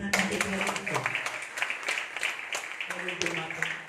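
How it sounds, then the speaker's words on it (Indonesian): A church congregation claps for a pastor, sharp scattered hand claps rising and falling under a voice that keeps speaking loudly throughout. "Beri tepuk tangan untuk dia."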